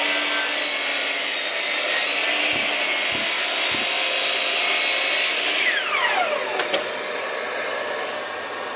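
An Axminster saw cuts through wood in a loud, continuous whining rasp, close by, with a few brief dips in the motor note before the pitch falls away as the cut finishes and the blade winds down.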